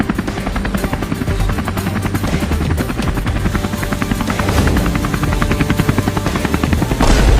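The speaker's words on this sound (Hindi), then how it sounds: "हम इतने बड़े हेलीकॉप्टर से उड़ रहे हैं" A big cartoon helicopter flies close by, its steady rapid rotor chop and engine drone loud and continuous throughout with no talking.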